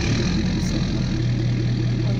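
Pickup truck with no exhaust idling close by, a steady low rumbling drone with an even throb and no variation in revving, alone with no speech.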